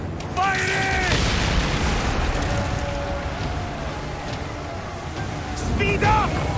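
Galley cannons fire in an Assassin's Creed Origins naval battle: heavy, rumbling booms roll on continuously over churning water, loud and close, with shouted voices breaking in near the start and again at the end.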